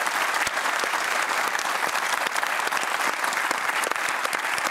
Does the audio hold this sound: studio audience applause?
yes